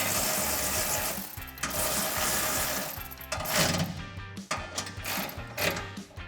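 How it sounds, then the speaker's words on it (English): A 13mm socket ratchet tightens exhaust bolts on a Jeep Gladiator JT during a Flowmaster FlowFx exhaust install, rapid mechanical clicking in bursts close by, with metallic knocks between strokes. "I'm tightening these down with my 13mm."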